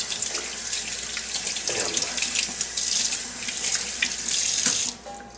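Raw chicken leg quarters washed under a running tap, loud continuous splashing of water into a sink with shifting gurgles as the meat is turned, ending in a brief quieter drip.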